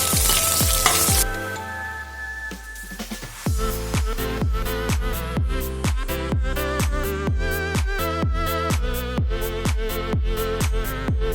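Chopped onion and capsicum frying in a pan, giving a steady close sizzle broken by regular rhythmic stirring strokes, with nobody talking.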